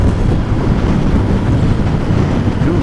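Strong wind buffets the microphone outdoors by motorcycles with a constant low roar and rumble, loud and close, with no voices.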